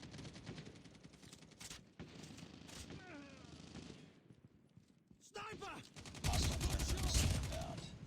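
Gunfire in Call of Duty Mobile comes as rapid automatic bursts and scattered shots over a busy game soundscape, with voices talking in between. A loud, dense volley of fire closes the clip.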